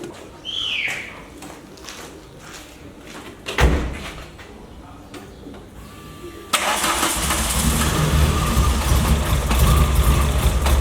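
A rebuilt Volkswagen Golf Mk1 with a 2.0 8v engine cranks and fires on a third attempt, then settles into a loud, steady idle; a door slam and birdsong come earlier, with a voice heard briefly.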